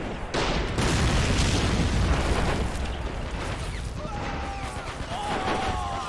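Heavy booming fire from a small anti-tank gun in the World War II strategy game Men of War: Assault Squad, a loud sustained rumble of blasts and battle noise across the whole stretch, fading slightly toward the end.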